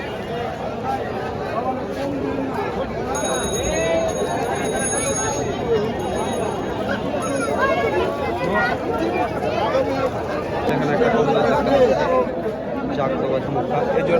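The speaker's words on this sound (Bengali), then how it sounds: "প্রচুর কবুতর প্রচুর মানুষের ভিড় হয় এখানে" A crowded Katakhali pigeon market in Rajshahi, with dense, continuous babble of many voices around, nearby people talking over it, and faint bird calls and chirps now and then.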